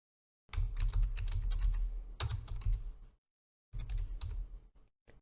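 Typing a comment on a computer keyboard, with two dense bursts of close, rapid key clicks separated by a short pause and a final single tap.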